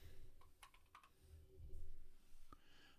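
Typing on a computer keyboard, a handful of faint close clicks and keystrokes in a quiet room, irregular and soft over a low background hum.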